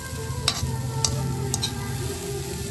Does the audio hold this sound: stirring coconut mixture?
yes